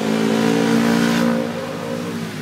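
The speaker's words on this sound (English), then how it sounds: "Motorcycle." A motorcycle rides past nearby, its engine droning loudly and then easing off as it moves away, with no talk.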